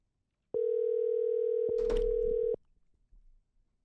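A steady telephone tone rings out for about two seconds during an outgoing call placed through a Roadcaster, loud and even, with a brief click partway through, then cuts to quiet line noise.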